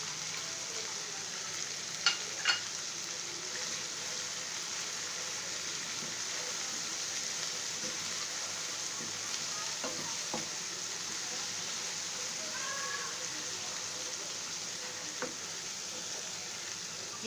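Spices frying in a pan for a chicken kofta curry, a soft, even sizzle and crackle that runs steadily throughout, fairly quiet, with a few small clicks and no voices.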